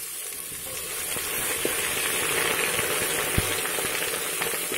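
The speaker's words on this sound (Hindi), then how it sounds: "थोड़ी देर मैं भून लेती हूँ उनको, ताकि इनका कच्चापन खत्म हो जाए।" Ginger and garlic sizzle and fry in hot oil with browned onions in a pan, a steady close crackle with occasional stirring clicks, heard alone without talk.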